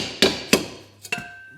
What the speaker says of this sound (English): you just need a couple taps with the hammer